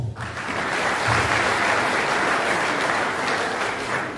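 Sustained applause from a large audience at a Hutu community gathering, dense and loud throughout with no speech over it.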